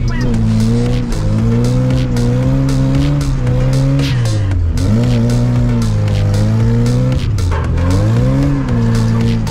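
A Lada Zhiguli drifting at night lets out long, loud tire squeals with a rising and falling engine whine, several skids running one after another close by, and voices talking over them.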